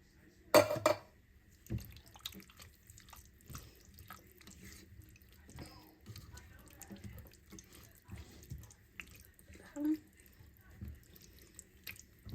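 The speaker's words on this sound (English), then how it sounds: "I'm just going to put a little splash of water in each of the cans." Small splashes of water are poured into empty cans in a kitchen, rinsing out seasoning for chili: faint, brief trickles and drips separated by quiet gaps.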